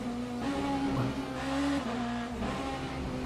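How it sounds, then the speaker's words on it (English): Race car engine in the Le Mans Ultimate racing game at the COTA National circuit, droning steadily with pitch rising and dropping as gears shift, heard up close and alone for a few seconds. "Look, can you hear how much Ed Jérôme play with the gears to try and get the car in check?"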